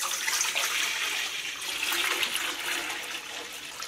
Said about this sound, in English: We're going to go ahead and pour this out into a bowl first.